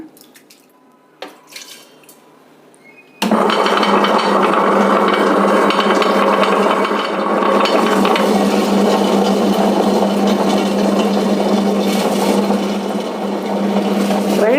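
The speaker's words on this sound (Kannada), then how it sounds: "ಈಗ ಗ್ರೈಂಡರ್ಗೆ ಹಾಕಿ ರುಬ್ಕೊಳ್ಳೋಣ" A wet grinder starts up and churns soaked rice, urad dal and fenugreek into dosa batter, a loud steady whirring grind running on without pause after a few quiet knocks.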